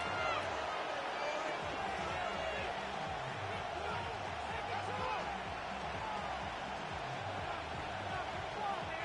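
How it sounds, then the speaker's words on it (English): A football stadium crowd in a PS5 video game roars in a steady, dense wash of cheering and noise, while a commentator's voice talks over it throughout. "This crowd doing all they can."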